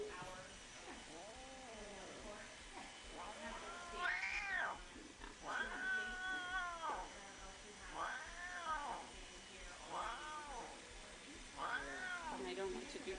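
A cat caged in an animal shelter gives repeated drawn-out yowling meows, about six rising-and-falling cries spaced a second or two apart, moderately close, with faint voices in the background.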